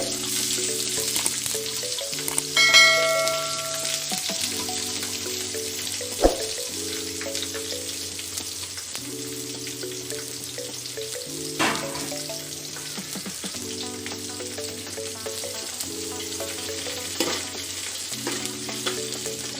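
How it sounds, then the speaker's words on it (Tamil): Four onions sautéing with cardamom in a pan for chicken 65 biryani, a steady close sizzle with occasional stirring scrapes, under a looping background music track with no talking. "வெங்காயத்தை நல்லா வதக்கணும்."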